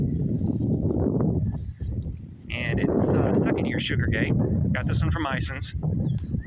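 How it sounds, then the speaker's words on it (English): Gusty wind buffets the microphone with low rumbling noise while someone talks throughout, outdoors in a backyard muscadine vineyard in April. "Apologize for the wind. It's quite a windy day today."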